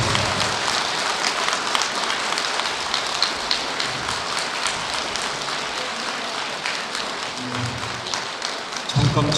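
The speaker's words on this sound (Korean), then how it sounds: "박수 부탁드립니다." Applause at a Buddhist Sunday service fills the hall with steady, dense clapping from a crowd, continuing loudly throughout with a brief low thump near the end.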